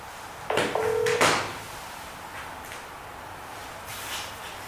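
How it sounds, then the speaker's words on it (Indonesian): A phone rings for an incoming call with a short electronic tone burst, followed by brief handling clicks and a quiet room. "Dian telepon. Angkat dulu, Dian."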